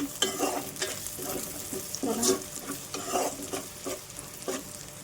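Slit green chillies sizzle in hot oil in a pan while a spoon stirs them in irregular scraping bursts, close and fairly quiet, with no voices.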